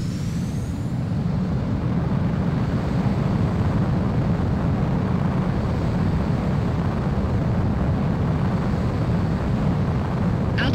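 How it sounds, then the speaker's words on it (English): A fighter jet taking off in Ace Combat 04, a steady, loud engine roar holding level throughout the whole stretch with no pauses. "Mobius One, you are cleared for takeoff."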